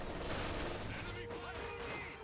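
Submachine gun fire in a Company of Heroes 2 battle, a dense rattling fusillade of rapid shots with rumbling booms, layered under a voice talking throughout.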